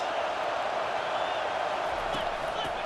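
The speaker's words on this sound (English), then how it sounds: "It is getting loud as this crowd tries to help its defense" Stadium crowd roar from EA Sports College Football 25, a Tennessee home crowd getting loud on defense inside the 20-yard line: a steady, dense wall of cheering that holds at full level throughout.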